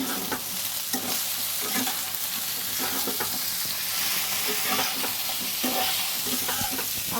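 Ridge gourd and pumpkin being stirred and fried in a pan, a steady close sizzle with repeated scraping strokes of the spoon throughout, no voices.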